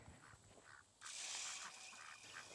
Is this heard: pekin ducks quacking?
yes